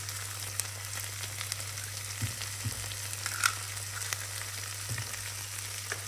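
Egg sizzling in a pan of frying pork belly over slow heat, a steady soft crackle broken by a few light clinks and scrapes of stirring, with a low hum underneath.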